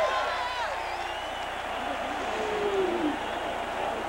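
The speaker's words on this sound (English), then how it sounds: "Crowd gets into it." Stadium crowd at a 1985 Michigan at South Carolina college football game, a broad steady roar of cheering and noise filling the air, with talk over it.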